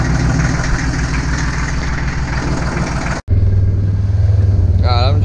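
A tractor runs close by with a landscape rake on a gravel driveway, a loud chugging engine rumble that cuts out briefly midway and then returns steady and low, with a faint whistle near the end.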